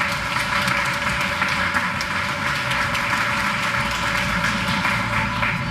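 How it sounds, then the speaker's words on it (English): Steady, dense round of applause from an audience at a teacher of the year ceremony, sustained and even throughout with no talking over it. "Give her a round of applause."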